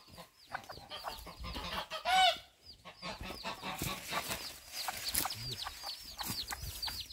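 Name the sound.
hens clucking near nest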